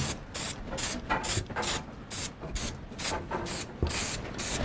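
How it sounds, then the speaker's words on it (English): Paint sprays onto a two-sided sign in rhythmic short hissing bursts, close and fairly loud, each pass a rapid rasping spray with brief gaps between. "it sprays pretty good, and it didn't bleed."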